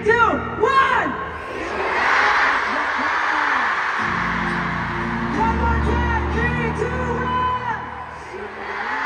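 Concert crowd at a world tour show shouting together in unison on a countdown, a loud, sustained mass of voices with whoops and cheers that swells and holds across the arena.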